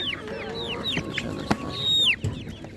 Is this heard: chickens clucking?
yes